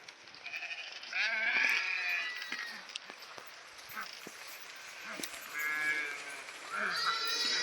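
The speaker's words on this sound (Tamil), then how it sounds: "மேய்ச்சலுக்கு போன ஆடு ஃபுல்லாக வந்துருச்சு தன்னோட குட்டிகளுக்கு பால் கொடுக்கறதுக்கு" A herd of goats returning from grazing bleats repeatedly, several near overlapping calls rising and falling over a rustling outdoor pen background during a goat Pongal festival.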